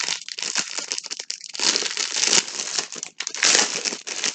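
A sealed compartment of a scrapbooking lace box being opened, with continuous loud crinkling and crackling of plastic packaging, close and busy, with brief pauses.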